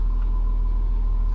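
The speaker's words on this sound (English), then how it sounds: "I am going to have to start the car up for this, so you hear a little bit of rumble." A Jeep Cherokee engine idling, a steady low rumble with a faint constant hum running through the brief stretch, close and even, with no speech.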